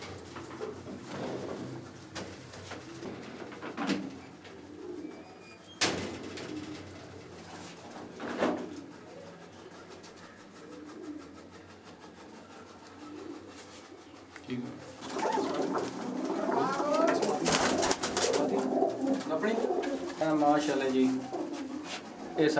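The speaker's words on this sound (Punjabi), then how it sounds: "ਇਹ ਸਾਡੇ ਘਰ ਦੇ ਖਾਕੀ ਕਬੂਤਰ ਆ" Home-bred khaki pigeons cooing at a house, soft throaty coos coming and going over about twenty seconds, mixed with occasional knocks and rustling and a denser stretch of calls toward the end.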